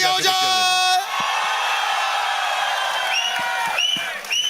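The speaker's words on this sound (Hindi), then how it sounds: "पहले इमरान भाई के लिए तालियां हो जाए।" Fans at a Tiger 3 film success event cheer and clap for actor Emraan Hashmi, a sustained roar with shrill whistles rising out of it, while someone talks over the noise.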